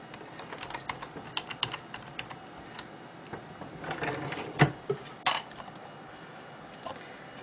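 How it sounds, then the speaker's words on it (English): Keys tapped on a computer keyboard while entering a password to reconnect a remote desktop session, a quiet, irregular run of close clicks with a couple of louder strokes near the end. "type in your password"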